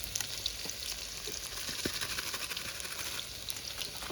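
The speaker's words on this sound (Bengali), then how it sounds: "আলু ভাজা, মাংস রান্নার প্রসেস স্টার্ট হয়ে গেছে।" Potatoes fry in oil at the start of a village mutton curry, a constant crackling sizzle with scattered pops and light stirring, fairly quiet overall.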